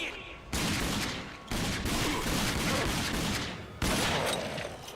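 Pistol gunfire in a video game, with dense, continuous bursts of shots in long stretches broken by brief pauses, loud and close, alongside some talking.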